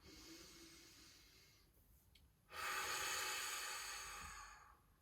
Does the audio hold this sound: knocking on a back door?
no